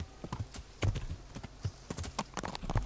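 Horse hooves in the video game Kingdom Come: Deliverance clip-clop in a quick, uneven galloping rhythm, fairly close and clear, with no talking.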